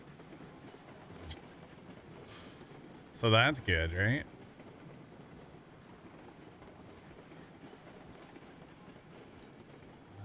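In the video game Railroads Online, a train rolls on rails with a low, steady rumble, broken by a brief loud burst of rattling tones, while someone talks over it.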